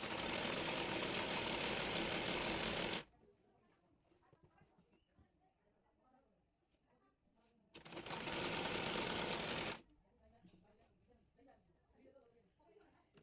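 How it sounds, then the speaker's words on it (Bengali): A sewing machine stitches the folded bottom hem of a round kurta-style garment. It runs in two steady, close bursts of about two to three seconds each, with a person talking in the quieter stretch between them. "এরপর নিচটা মুড়িয়ে সেলাই করে নেব।"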